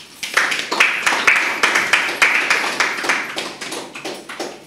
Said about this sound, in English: the COP itself deserves a round of applause